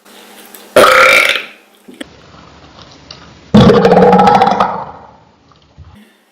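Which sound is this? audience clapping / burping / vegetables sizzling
burping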